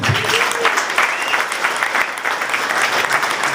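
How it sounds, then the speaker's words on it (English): Audience applause at an Indiana Republican Party gathering, a full, steady burst of clapping from a large room that holds evenly from start to finish. "He deserves a round of applause."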